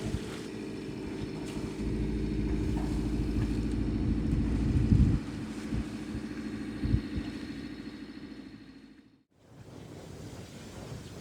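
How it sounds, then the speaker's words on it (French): A sailboat's engine drones steadily while motoring at sea in calm, windless conditions, a low continuous rumble with water wash, briefly dipping near the end before resuming. "on est au moteur déjà depuis 5h du matin"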